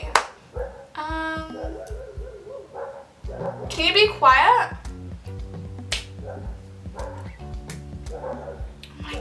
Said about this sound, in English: why do the dogs have to be barking now? Right when I start filming.